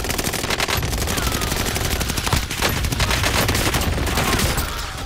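Rapid automatic gunfire from a Caldera battle-royale video game match, with dense, continuous bursts of shots and overlapping fusillades, loud and close throughout, no talking.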